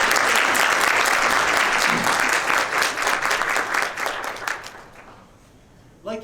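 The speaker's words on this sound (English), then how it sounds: "I think CSC deserves a big round of applause for putting events like this together for our community." Audience applause at an annual volunteer luncheon in 2020, a loud sustained round of clapping that thins out and fades toward the end, followed by a brief sound just before it stops.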